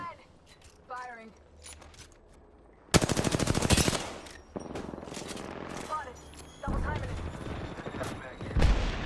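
Gunfire in the video game Apex Legends: a loud rapid automatic burst followed by further shorter volleys and clicks, with a player talking over parts of the action.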